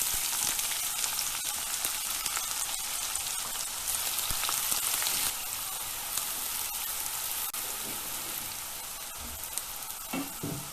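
Chopped onion fries with peppercorns and cumin seeds for a one-pot rice and lentil dish, a dense steady crackling sizzle with small pops throughout, easing slightly partway and punctuated near the end by light stirring.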